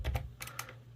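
Quick light keystrokes on a computer keyboard entering a short password, a handful of close taps over about a second.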